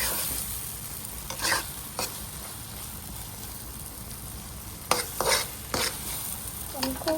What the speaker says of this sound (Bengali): তো দেখুন আমি খুব ভালো করে ভেজে নিচ্ছি